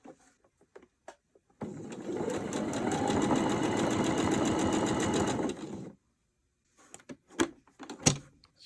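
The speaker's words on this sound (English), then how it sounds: "I'm just going to add trim like this all the way around, just with a straight stitch." Sewing machine running a straight stitch to attach trim around a fabric soft cover for a traveler's notebook, a steady close whirring hum for about four seconds, framed by faint handling clicks and bumps.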